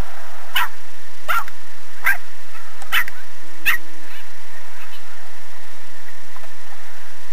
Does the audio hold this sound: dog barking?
yes